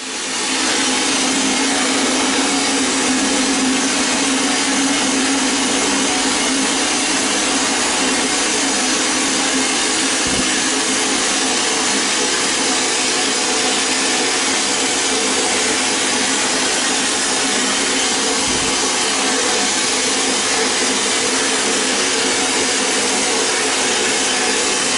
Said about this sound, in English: Let's put this in the vapor blaster and see what we can do with it.